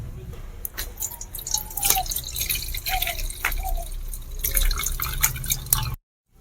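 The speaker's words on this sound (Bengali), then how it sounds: "তো এবার আমি জলটাকে ফেলে দেব।" Water used to rinse moong lentils is tipped out of a pot, a close splashing, trickling pour with dripping, gurgling bursts that stops abruptly into silence.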